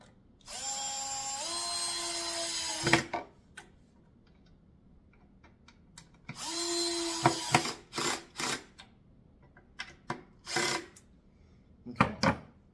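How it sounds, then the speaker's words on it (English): A power drill drives long wood screws into the underside of a wooden kids' chair in two sustained whirring bursts, each followed by sharp clicks and taps, close and clear with no talk. "And again, just drill these down."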